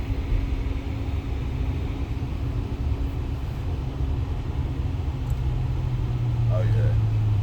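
A Buick car drives along with a steady engine drone and road rumble, the engine note rising near the end as gears shift, while a person talks over it.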